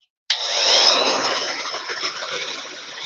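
Hair dryer blowing on the top of a handmade craft beehive, switching on abruptly and holding a steady, close airy whoosh with no talking.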